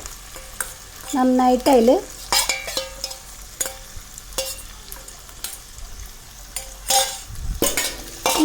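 Vegetables and onions stir-frying on high flame for a vegetable dum biryani, with scraping stirs and a few metallic clinks over a low sizzle, while a voice speaks briefly near the start.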